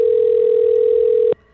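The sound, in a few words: telephone call ringing tone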